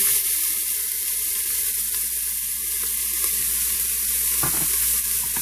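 Chopped onions fry in a pan for coconut rice and red beans with chicken stew, giving a loud, continuous sizzle up close with a few stirring scrapes.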